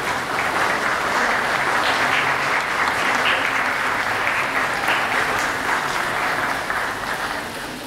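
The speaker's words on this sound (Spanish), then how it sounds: "Un aplauso, por favor." Sustained applause from an audience at a Guatemalan traditional dress show, a dense, even wash of many hands clapping that holds steady for about eight seconds without a break.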